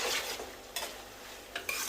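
A spoon stirs pav bhaji vegetables in a pan of hot oil, with salt going in. Steady sizzling runs throughout, broken by a few distinct scraping strokes against the metal.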